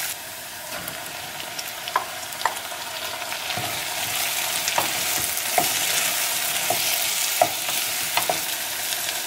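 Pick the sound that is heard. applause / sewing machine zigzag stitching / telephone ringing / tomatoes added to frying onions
tomatoes added to frying onions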